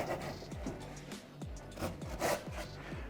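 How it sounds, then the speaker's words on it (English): Chisel paring waste wood between saw kerfs for a coffee table build, soft scraping and rubbing strokes repeating every half second or so, close-up and fairly quiet with no voices. "all we have to do is chisel out the waste"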